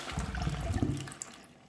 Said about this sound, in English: if I try to flush the water, let's see what's happening